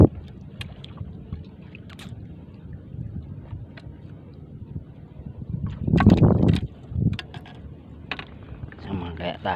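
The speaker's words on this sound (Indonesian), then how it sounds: "badai mas, anginnya kenceng" Strong wind buffets a small fishing boat on the water during a storm, a steady rushing roar with a louder gust burst midway and wind noise on the microphone, with people talking faintly underneath.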